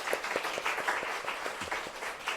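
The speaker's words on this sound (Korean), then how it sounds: "우리 서로에게 박수 한번 하겠습니다" A church congregation claps together, a steady dense patter of many hands that holds evenly through the whole short stretch at moderate distance.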